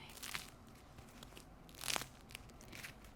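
A knife saws through the crunchy crust of a freshly baked loaf from an Ooni Halo Pro oven, giving quiet crackling and crumbling with one louder crunch midway, close up and without any talk.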